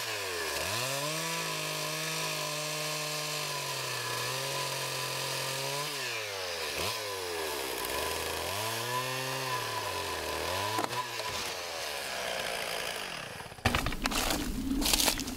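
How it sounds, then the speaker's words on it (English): A chainsaw cuts through a tree limb using a hinge cut, its engine revving up and down in long loud surges, then a sudden crack and thump as the limb breaks off near the end. "making that hinge and then cutting it off, it made it suddenly come off"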